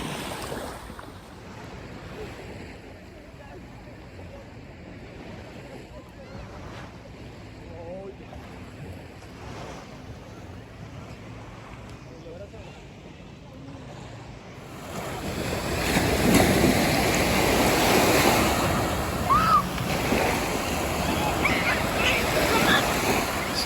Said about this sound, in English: the beach here at Henderson Beach State Park stretches about a mile along the Gulf of Mexico